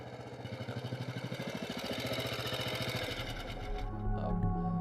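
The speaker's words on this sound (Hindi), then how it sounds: "स्कूटर नहीं है, बाइक है।" A motorbike engine runs at night on a roadside, a pulsing mid-pitched putter with a steady rhythmic beat that grows louder and rougher as the bike draws near, alone without talk.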